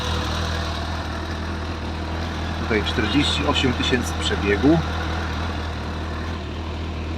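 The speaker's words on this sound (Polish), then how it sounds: "silniki w tych motocyklach chodzą bardzo przyjemnie" A 2006 Honda CBF1000A motorcycle engine idles steadily with a smooth, even hum throughout, while someone talks over it partway through.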